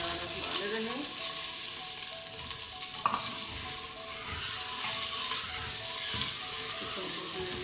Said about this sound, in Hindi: चिकन को अच्छी तरह भूनना है।